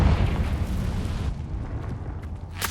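A Confringo blasting spell explodes at a cave entrance in Hogwarts Legacy, a loud, continuous roaring burst of rumble and crackle that holds steady before trailing off with a bright flare at the end.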